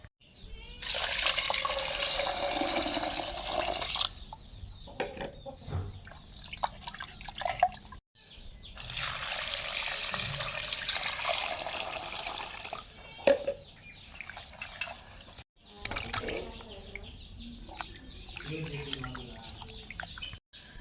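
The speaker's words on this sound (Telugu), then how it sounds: "ఇప్పుడు మనము శుభ్రంగా వాష్ చేసుకుందాం." Tap water runs in long loud bursts over raw chicken and a bunch of gongura leaves in a sink, stopping and starting three times, with drips and handling sounds between the pours.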